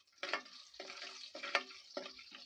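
Tempering spices frying in a little oil as they are stirred, with short bursts of sizzle in a rough rhythm, close and fairly quiet, with no voices.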